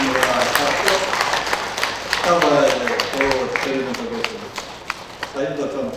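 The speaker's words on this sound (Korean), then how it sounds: "큰 박수 부탁드리겠습니다." Applause rises from the audience at a writers' association annual general meeting, scattered claps under and between people talking near the microphone.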